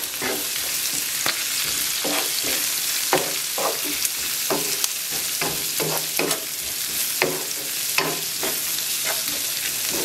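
Onion and ground beef frying in a pan with cumin and ground pepper, stirred with a spoon: steady close sizzle under repeated scraping strokes, no talking.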